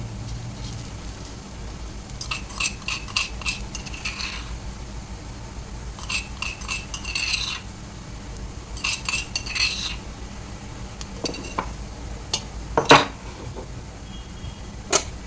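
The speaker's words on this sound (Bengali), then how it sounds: "এখন ভালো করে মিশিয়ে নেব।" A utensil stirs crushed black cumin and green chili in a pan, with scattered metallic scrapes and clinks coming in short bursts over a quiet background and one sharper knock near the end.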